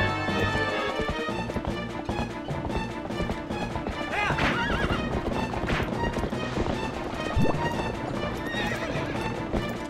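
A horse's hooves clip-clop at a steady trot in the video game Zelda: Twilight Princess HD, with several loud whinnies over busy game music and effects.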